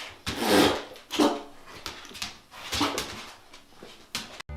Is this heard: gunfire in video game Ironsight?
no